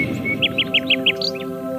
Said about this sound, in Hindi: पेड़ों की टहनियों पर चहकते पंछी